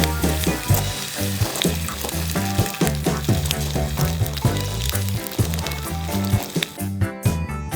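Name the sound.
eggs frying on a burger grill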